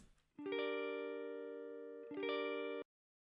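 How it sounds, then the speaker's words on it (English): Two clean strummed guitar chords, the first left ringing for over a second before a second strum, then cut off abruptly to silence. "I go to the single strum, sounds like this, without anything on it."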